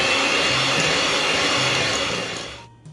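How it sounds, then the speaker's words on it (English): Steady whirring hum of an electric whisk beating egg yolks, sugar and vanilla bean paste for a magic custard cake, loud and close, running continuously for almost three seconds before cutting off abruptly. "Now we are going to whisk it"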